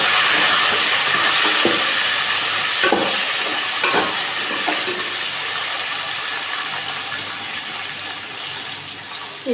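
Sliced eggplant sautés in hot oil for a kara kuzhambu, giving a continuous bright sizzle that slowly eases, broken by a few soft scraping stirs early on.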